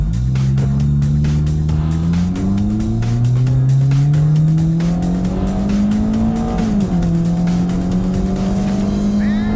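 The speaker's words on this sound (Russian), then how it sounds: "Давайте сейчас попробуем уложить стрелочку спидометра на Toyota Altezza." A Toyota Altezza with traction control switched off accelerates hard, the engine note climbing steadily through the revs under a continuous squeal of tires, loud and close.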